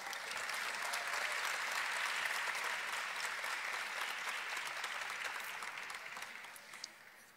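Sustained applause from a graduation audience for a postgraduate graduate, a dense steady wash of many hands clapping that holds for several seconds before slowly thinning out at the end.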